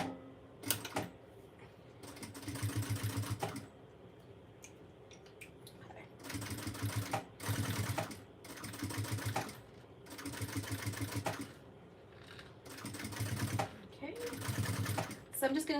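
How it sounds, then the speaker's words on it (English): Sewing machine stitching down each side of a strap for a tote bag, in several loud bursts of rapid whirring stitching separated by short pauses, with some talking between runs. "So I'm just going to sew down each side of the strap."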